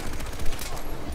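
Rapid gunfire from a signature rifle in the video game Far Cry 4: dense, loud, overlapping shots that fill the whole moment with sharp blasts.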